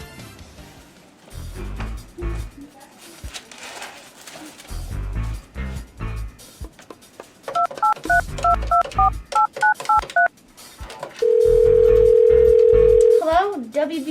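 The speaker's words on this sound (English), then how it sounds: "I have to make a phone call." Telephone call being placed: loud, clear keypad beeps as a number is punched in, then a steady continuous dial tone, with speech and background sound between the tones.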